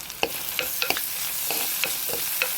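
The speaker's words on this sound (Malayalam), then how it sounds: "നന്നായി വഴറ്റാം" Slit green chilies sautéing in hot oil for a mackerel curry, steady sizzle punctuated by repeated sharp scrapes and taps of a spatula against the pan, no talking.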